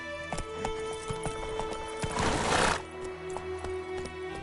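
Roach, the horse from the game The Witcher, clip-clopping along in a steady rhythmic trot, hooves close and clear over a music-and-ambience bed, with a louder rushing swell midway.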